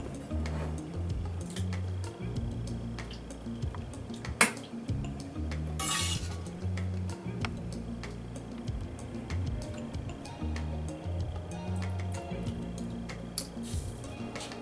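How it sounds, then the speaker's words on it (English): A ladle dishes freshly cooked lamb curry from a pot into a bowl, producing repeated close metallic clinks and scrapes in an irregular rhythm, with soft wet squishes between them. "So now I'm going to take the curry out in the bowl"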